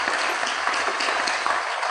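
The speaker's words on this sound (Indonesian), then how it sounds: "Tepuk tangan." Dense applause from an audience at a religious talk, steady and loud throughout a short burst with no talk over it.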